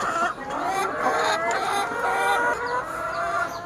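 Laying hens cluck and squawk nearby while being injected with vaccine, a busy overlapping chatter of agitated fowl calls that runs steadily throughout.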